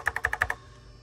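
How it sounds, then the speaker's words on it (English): Six quick, crisp keystrokes on a NABU computer keyboard, close and evenly spaced within half a second, followed by quiet. "So, you know, I can just type something here."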